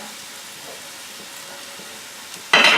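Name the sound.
chicken frying with spices over medium-high heat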